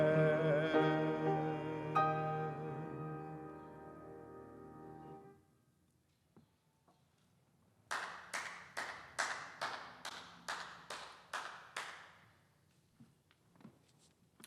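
At a church service, a sung hymn fades to silence, then about ten loud, evenly spaced claps ring out in a steady rhythm, close by, with no talk over them.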